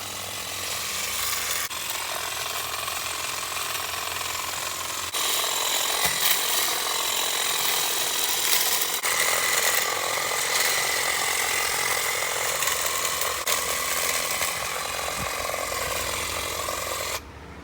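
A Makita hedge trimmer cuts through a small hedge outdoors, its reciprocating blades giving a loud, continuous buzzing chatter with a few brief shifts in tone as it moves through the branches.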